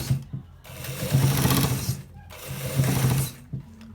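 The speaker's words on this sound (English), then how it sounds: "Watch exactly how we are stitching it, please." Sewing machine stitching a designer shirt with buttons, running in two steady bursts with a brief pause between them, close and fairly loud with no voices.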